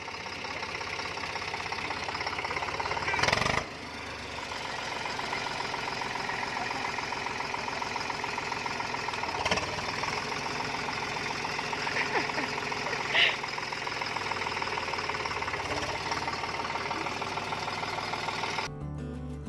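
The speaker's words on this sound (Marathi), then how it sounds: "वाटेत शेतात ट्रॅक्टर फिरताना दिसला" A tractor engine chugs steadily nearby in a field in Igatpuri, a rhythmic mechanical rumble with occasional knocks and clatter, continuous for the whole stretch.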